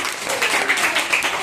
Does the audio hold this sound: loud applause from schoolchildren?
yes